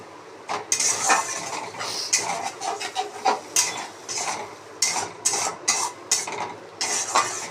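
A spatula scrapes and clatters in a pan as onion with ginger-garlic paste is sautéed, giving repeated close metallic scraping strokes over a light sizzle, loud and rhythmic with no talk.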